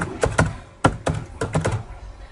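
A computer keyboard being typed on to enter a layer name in Flash software: a few quick bursts of soft, close clacking keystrokes with brief pauses between them.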